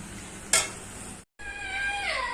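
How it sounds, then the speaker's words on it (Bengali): Spiced meat fries in a pan with a steady close sizzle, broken by one sharp metallic clank and a brief cut-out before the frying continues. "এবার কষে কষে হবে মাংস, ঢাকা দিয়ে দিই।"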